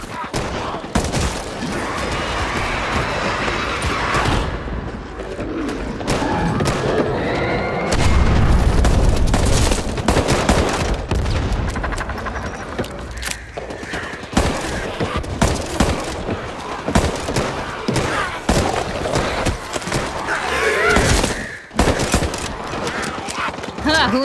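Heavy bomb explosions and rapid gunfire boom through a Back 4 Blood gameplay fight, dense and loud almost throughout, with in-game voices calling out over the chaos.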